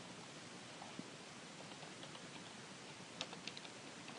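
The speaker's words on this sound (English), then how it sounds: "To find it, just go back to your browser and type in" Soft, rapid typing on a computer keyboard, heard as faint scattered key clicks under a steady hiss, with a few slightly louder taps near the end.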